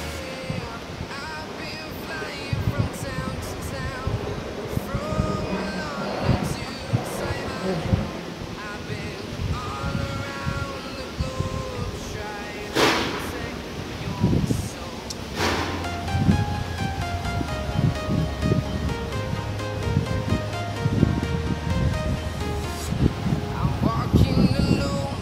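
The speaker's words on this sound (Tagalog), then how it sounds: "Lakas ng hangin." Strong wind roars and buffets continuously at the Ten Thousand Buddhas Monastery in Hong Kong, with gusts and rustling, mixed with low rumbling and scattered knocks over a long stretch.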